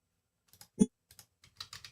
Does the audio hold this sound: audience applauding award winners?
no